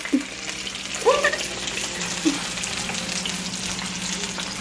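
Fennel braises in a pan, giving off a steady soft sizzle and frying hiss with a few faint clinks of tongs.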